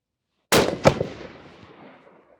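A single loud, sharp 7mm PRC rifle shot from a bolt-action long-action build at an outdoor range cracks close by, with a quick echo slap and a long fading rumble trailing away.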